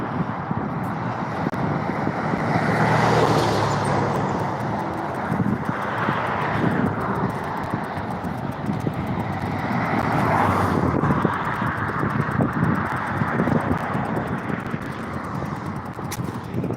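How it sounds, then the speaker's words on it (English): An armored car rolls past an outdoor fishing spot, a broad engine rumble that swells and fades under steady wind noise. "Well, there went an armored car."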